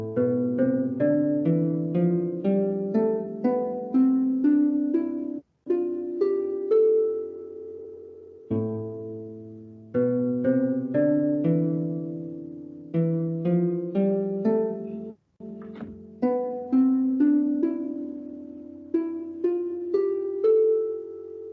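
An ancient Greek scale is played on a plucked instrument, first as one continuous run of notes and then in separate tetrachord groups divided by short pauses, clear and alone with no talking.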